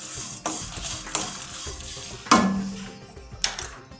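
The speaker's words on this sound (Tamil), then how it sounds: "இதில் கசூரி மேத்தி போடுறேன். ஜஸ்ட்டு 2 பெரட்டு." Dried kasuri methi stirred into roasted spices in a pan on the stove, with scraping spatula strokes and a light sizzle, close and fairly loud, with no talking.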